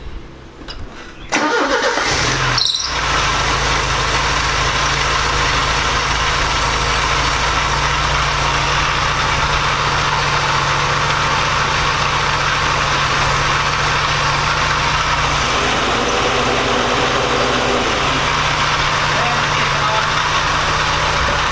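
A Porsche 944 engine, freshly repaired with a new gasket, cranks and catches, then settles into a loud, steady, close idle with a constant low hum and slight vibration.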